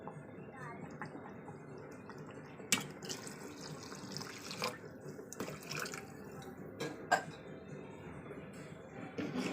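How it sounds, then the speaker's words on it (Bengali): Water is poured into a pot of cooking dal in a home kitchen, producing a faint trickling, splashing sound with a couple of sharper knocks, while a person talks quietly. "এবার জল দেবো, একটু একটু পাতলা ডাল করবো।"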